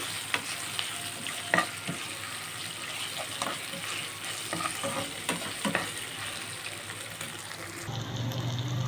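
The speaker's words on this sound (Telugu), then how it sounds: "అల్లం వెల్లుల్లి అన్నిటినీ బాగా కలిపేసుకోవాలి" Ginger-garlic paste stirred in frying oil in a pan, with steady close sizzling and repeated scraping clinks of a spoon throughout.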